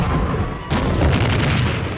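A loud, continuous explosion in an action movie, with a sudden heavy blast about two thirds of a second in that rumbles on at full volume through to the end.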